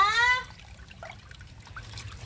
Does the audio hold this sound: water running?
yes